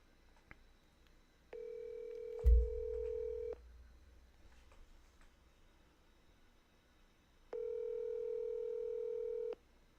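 A phone line gives two long, steady electronic tones while a call is placed, each lasting about two seconds with a quiet gap between them, plus a brief thump, all against faint background hiss.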